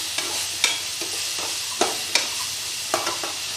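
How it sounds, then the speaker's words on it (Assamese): Four green chilies fry in hot oil, a steady sizzle under repeated sharp scrapes and taps of a spoon stirring in the pan. "এবাৰ মই ইয়াতে 4টা জলকীয়া দি দিম। এবাৰ ভজা ভজা হৈয়ে গৈছে।"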